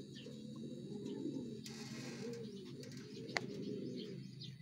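Racing pigeons coo in a steady low murmur throughout, with a few chirps and a brief sharp click mid-way, set at a pigeon racing derby in Sinait, Ilocos.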